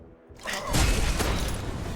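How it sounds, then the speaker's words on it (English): A short synthetic impact effect from the video game Netherworld Covenant, played when the player is hit: a swooshing rush swells into a low, noisy boom with a crackly tail, loud and close. "that's the sound of me getting hit"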